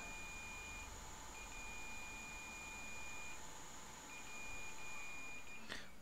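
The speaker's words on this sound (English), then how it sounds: "Hear that beep? Something is still shorted out here." A thin, steady electronic beep tone from a shorted Samsung PM991 SSD circuit board sounds continuously with a brief break, faint over a constant hiss of background noise.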